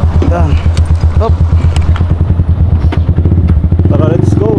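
A motorcycle engine runs steadily close by with a low, even rumble throughout, while people talk over it.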